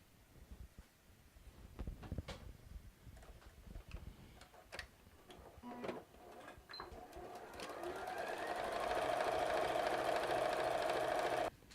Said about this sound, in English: sewing the whole way around. Just as close as you can to the edge.